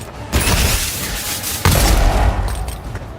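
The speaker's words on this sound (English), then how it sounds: "these pistols go hard" Rapid pistol fire in the video game Avowed, a loud, dense burst of shots with booming impacts in two clusters, close and punchy, with no talking.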